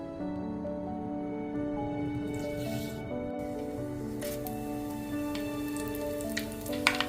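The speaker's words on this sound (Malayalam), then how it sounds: "ചട്ടി നന്നായി ചൂടായതിനു ശേഷം അതിലേക്ക് കുറച്ച് വെളിച്ചെണ്ണ ഒഴിച്ച് കടുകും കുറച്ച് ഉള്ളിയും കൂടി ഇട്ട് പൊട്ടിച്ചെടുക്കാം." Steady crackling and spluttering of mustard seeds and onions frying in hot coconut oil, with sharp popping bursts scattered throughout.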